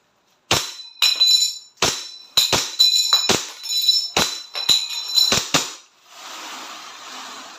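A DB Glock 17 gas blowback airsoft pistol fires about a dozen sharp, loud, close shots in a quick semi-automatic rhythm. A short hiss of gas trails off after the last shot.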